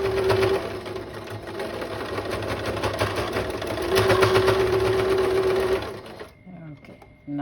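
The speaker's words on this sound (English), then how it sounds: "now I have to straight stitch the end" A sewing machine runs a continuous straight stitch along the end of a nurse's scrub cap, a loud close buzzing drone that stops near the end, with a voice speaking briefly over it.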